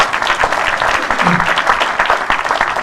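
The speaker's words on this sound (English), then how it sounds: "Round of applause, please, ladies and gentlemen" Audience at a Radar event gives a round of applause, dense close clapping for nearly three seconds with a faint voice underneath.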